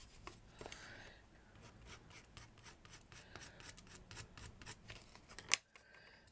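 Scissors trimming craft paper for a handmade Christmas desk pencil holder, a faint run of soft, rhythmic snips and rubbing cuts close by, ending in one sharper click.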